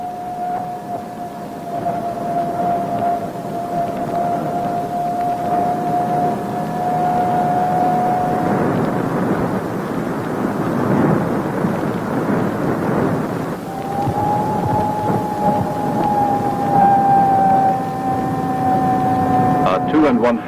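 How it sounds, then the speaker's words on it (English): An AN/PPS-5 ground surveillance radar tracking a 3/4-ton truck produces a sustained, warbling audio tone over rough static. The tone fades out midway and returns later at a slightly higher pitch. "This sound identifies a 3/4-ton truck."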